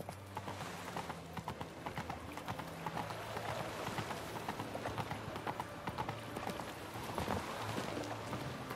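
Roach the horse gallops in The Witcher 3, a steady clip-clop of hooves running throughout amid game ambience and faint background sounds.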